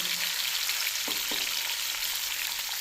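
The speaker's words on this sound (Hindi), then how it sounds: "प्याज को हमने गोल्डन ब्राउन करना है।" Onions frying in oil for a beef pulao give a steady, close hiss, with a couple of brief stirring clicks and no voices.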